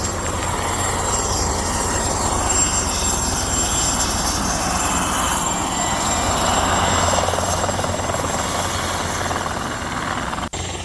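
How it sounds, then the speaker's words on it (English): A personal helicopter drones steadily overhead, its rotor and engine hum loud and continuous throughout, with no voices. "these are personal helicopters that you guys can buy"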